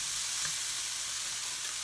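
Small sliced tomatoes sizzle in a hot frying pan for an egg white omelet, a constant close hiss of frying with faint stirring, no speech.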